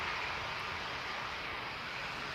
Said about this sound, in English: Latham's Dreamliner, Boeing 787 Dreamliner